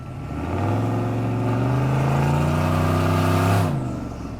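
A squatted, turbocharged truck with a custom lift kit drives past loudly and close, its engine note climbing steadily in a rising rev before cutting off abruptly near the end.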